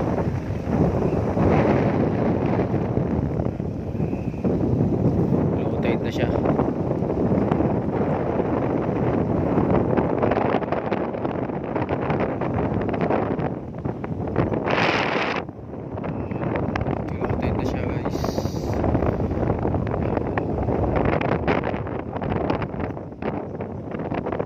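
Strong wind roars and buffets the microphone continuously as a RoRo ferry docks at Lubang Island, with the low rumble of the large vessel beneath it.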